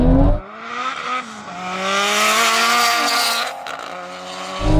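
Two heavily tuned cars, a 600 hp Toyota Supra and a 700 hp Nissan Silvia, launch from a rolling start in a drag race, their loud engines rising and falling through sharp gear changes up close.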